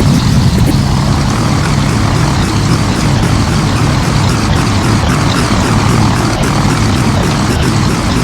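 A Douglas DC-3 propeller airliner in Flight Simulator X drones steadily in flight, its piston engines giving a loud, continuous, even roar throughout.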